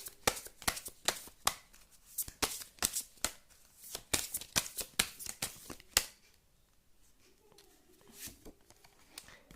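Tarot cards are shuffled in a quick run of crisp, close riffling snaps for about six seconds, then a softer handling sound follows as a card is drawn, with no speech.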